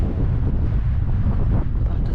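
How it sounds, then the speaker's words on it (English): Steady wind gusting across an exposed hillside wild campsite on St Cuthbert's Way in the Scottish Borders, a continuous low rumbling buffet against the microphone with no letup. "It's a little bit windy"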